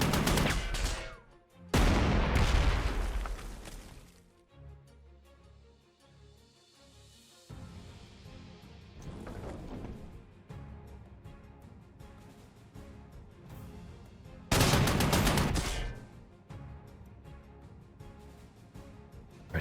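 Game gunfire from units attacking in Panzer Corps 2, a World War II strategy game set in the Cyrenaica campaign: bursts of rattling shots and booming blasts come in separate loud volleys with quieter stretches between them.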